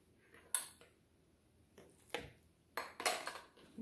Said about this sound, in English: Let me just give this a quick mix before I put the pineapple in.